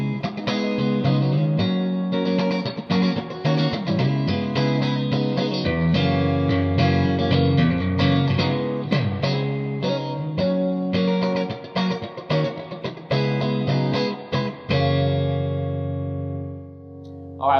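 Electric guitar played through a Budda Verbmaster 30 amp with heavy reverb, a continuous run of chords and notes ringing out with a washy, lingering tail that fades at the end, alone without talk.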